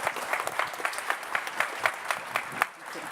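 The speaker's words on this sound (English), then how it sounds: "Can we have a round of applause for my panelists" A conference audience at a panel discussion on whether AI can be creative applauds the panelists, steady clapping from many hands filling the room for about three seconds, fairly loud and close, then tapering off.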